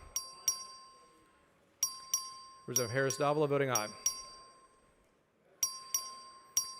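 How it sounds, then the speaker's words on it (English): The clerk rings the voting bell in the Texas House chamber during a record vote. Bright metallic dings come in quick pairs and clusters, with a voice announcing a vote between them. "The clerk will ring the bell."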